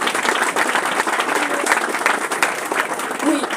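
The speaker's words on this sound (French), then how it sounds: "Je pense qu'on peut vraiment les applaudir." Sustained audience clapping rings out at a round-table conference, loud and steady across the whole stretch, with a voice faintly present underneath.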